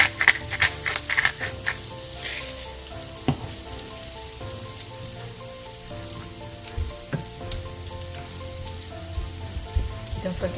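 Sauce seasoned with pepper and herbs simmers in a pan for creamy chicken enchiladas, giving a steady close sizzle and bubbling with scattered clinks and stirring sounds, no talking.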